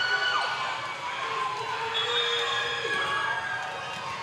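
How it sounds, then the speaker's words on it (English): A raucous crowd cheers and shouts steadily at a high school volleyball match between Methuen and Beverly, a dense wash of voices filling the gym throughout. "Got a raucous crowd here tonight"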